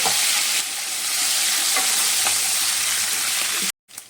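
Green chillies and finely chopped onion fry in a hot pan with a steady, loud sizzle and a few spoon scrapes, before the sound cuts out abruptly near the end.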